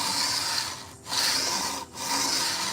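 Sandpaper rubbed back and forth across a guitar body during a repair, steady broad rasping strokes with two brief pauses between passes, close and loud, no talking.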